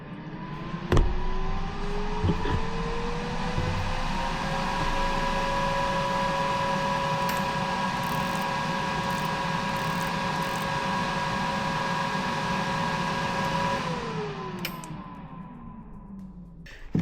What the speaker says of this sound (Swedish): Så jag tänkte se om man får det här kylvattnet att cirkulera.